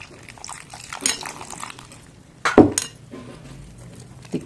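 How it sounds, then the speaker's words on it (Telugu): Water added to maida flour mixed with salt and turmeric in a kitchen bowl, faint pouring with a few light clinks against the dish, quiet and close. "కొద్దిగా వాటర్ యాడ్ చేసుకుంటూ"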